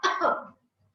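A single short, harsh, imitated dog-like barking cough, voiced and abrupt, fading quickly into near silence.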